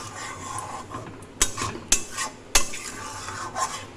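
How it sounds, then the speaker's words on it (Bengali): Mango jelly made with jaggery being stirred in a pot, a spoon scraping and clinking against the metal in several sharp strokes over a low simmering background, close and fairly quiet. "এটা কিন্তু আমি ঢাকনা খুলে মাঝে মাঝে নেড়ে দিচ্ছি।"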